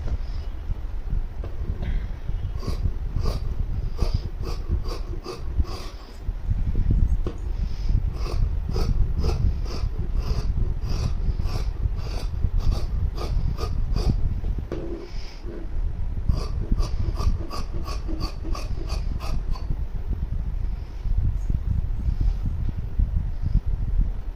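Scissors cut fabric for a six-panel maxi dress, giving repeated crisp snips in quick runs with short pauses, close up over a steady low background rumble.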